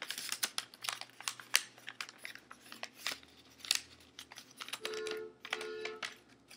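Paper being creased and folded by hand while making an origami crane, with close, crisp crinkles and sharp taps in an irregular rhythm, plus a brief sliding rustle near the end; no talking.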